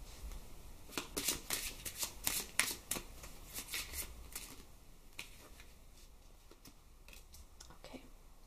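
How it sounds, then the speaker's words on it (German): Tarot cards shuffled by hand close up, a quick run of crisp riffling flutters and soft slaps that thins to quieter, sparse card rustles toward the end, with no talking. "Ich werde jetzt noch einmal kurz mischen, bis ich innerlich ein Stoppzeichen fühle."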